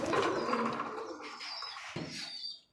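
A single pigeon, kept for sale at a pigeon market, coos softly at close range in a few low, throaty rolls, with no talking.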